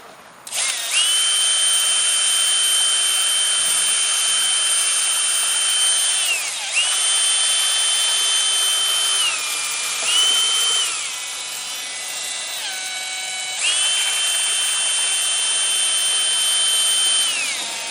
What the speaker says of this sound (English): And so I'm going to put this in my drill.